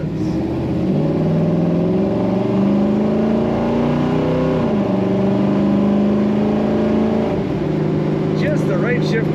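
A 1972 Chevrolet Nova drives on the road, its engine giving a loud steady drone that rises and falls as it accelerates and shifts, heard from inside with a voice talking over it.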